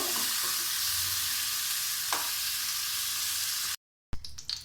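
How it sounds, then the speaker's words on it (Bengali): Steady, loud sizzling of potatoes with salt and turmeric frying in hot oil in a pan, with a brief stir midway, then a short gap and some clinks. "নুন হলুদ দিয়ে আলুকে লাল করে ভেজে নেব"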